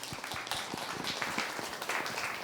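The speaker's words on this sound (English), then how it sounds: "Round of applause for Emily." Light audience applause in a seminar room, a scattering of claps at moderate distance, fairly faint and brief.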